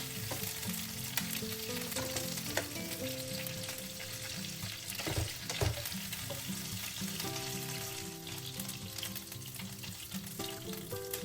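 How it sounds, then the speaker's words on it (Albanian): Meatballs sizzle steadily in a little hot oil, turned side to side, a dense continuous frying crackle with occasional stirring clatter, close and without speech. "T'i skuqim duke rrotulluar nga njëra anë në tjetrën"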